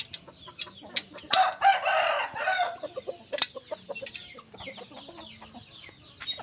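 Chickens cluck in short bursts close by, with a rooster crowing loudly partway through amid scattered clucks and squawks.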